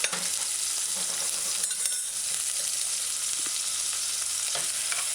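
Onions and diced scallion fry in a pan with a steady, dense sizzle throughout, with occasional stirring scrapes and no talk.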